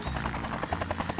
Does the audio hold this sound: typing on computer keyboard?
no